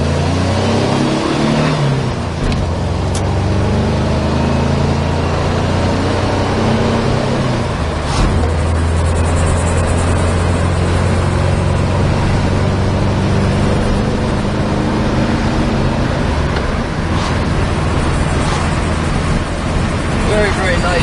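The engine of a 1978 Volkswagen Beetle convertible runs continuously and loudly, its low throbbing hum rising slightly as it is revved up, with someone talking over it throughout.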